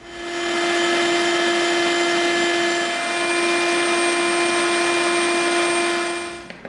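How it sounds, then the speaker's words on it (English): A Dremel rotary tool grinds the edges of EVA foam, a loud, steady high-pitched whine that holds for several seconds, close up and alone before cutting off abruptly. "now we're going to Dremel the heck out of the two edges of these things"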